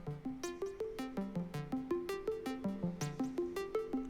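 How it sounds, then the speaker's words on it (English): A modular synth voice plays a pitch sequence made by a Turing machine module, stepping through short plucky tones of varied pitch in a steady, fast rhythm, clear and alone with no talking. "I've generated a pitch sequence here. Now that sounds like this."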